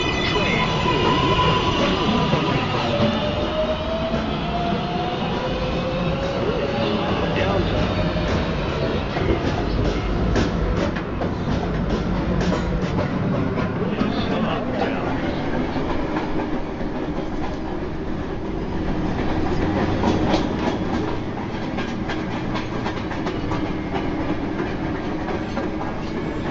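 An NYC subway train runs with a continuous rumbling roar and rhythmic rail clatter, a steady loud ride that rises slightly toward the end with squealing tones early on.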